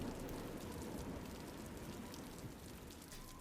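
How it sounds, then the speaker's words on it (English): Steady soft rain pours through an open classroom window on a chilly November night in the game Witch on the Holy Night, a constant even wash of drops with no other sounds. "The chilly November air filled the room as the soft sounds of the rain doubled in volume."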